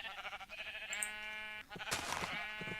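A sheep in the Minecraft video game bleats in a clear, wavering cry that runs for most of the moment, followed by a second, shorter bleat and some light game noise.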